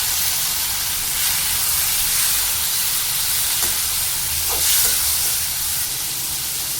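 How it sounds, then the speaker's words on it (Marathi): Thinly sliced tomatoes, about two large ones, frying with browned onions in a pan while being stirred, a steady hiss and sizzle with a few brief clinks, moderately close and without talk. "तर आता हा टोमॅटो छान मॅश होऊस्तोवर आपल्याला छान परतवून घ्यायचा आहे कांद्यासोबत."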